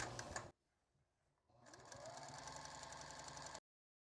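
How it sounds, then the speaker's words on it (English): Sewing machine stitching a 1/4-inch seam on quilt strips: a short burst of motor whir, a brief pause, then a steady, even run of rapid needle chatter for about two seconds, close but soft. "sew down this edge. And I'm doing a 1/4-inch seam here"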